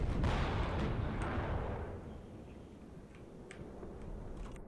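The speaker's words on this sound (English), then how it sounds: "that bombard by the Uran did destroy a building" A rocket artillery bombardment by a Uran launcher in the wargame WARNO: a deep, rumbling barrage that rolls and slowly fades, followed by a few faint ticks and distant crackles.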